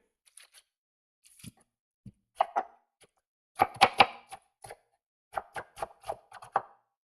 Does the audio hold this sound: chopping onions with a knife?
yes